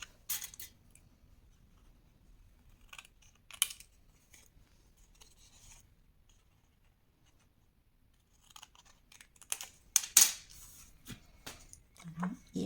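Scissors cut paper for a Minnie-themed scrapbook card, giving a few short snipping bursts near the start and a denser cluster of crisp cuts toward the end, close and fairly quiet against a hushed room.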